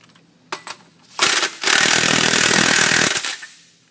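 An impact wrench tightens a nut on a Hunterworks Wolverine sheave, opening with a couple of short bursts before a loud, sustained rattling hammer of about a second and a half that then cuts off, with no talking.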